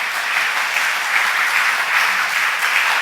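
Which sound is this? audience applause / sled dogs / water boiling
audience applause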